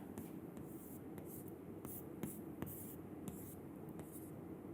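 Chalk or marker writing on a board during a chemistry lecture on symmetry and group theory, with steady scratchy strokes and a few sharper taps under constant room noise, no talk.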